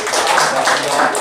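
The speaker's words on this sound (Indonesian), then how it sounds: "Tepuk tangan buat Wiwit." Audience applause in a character-building workshop room, a dense steady wash of many hands clapping together, loud and continuous for the whole moment.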